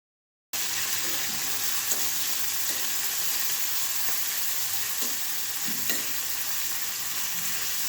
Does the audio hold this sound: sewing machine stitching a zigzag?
no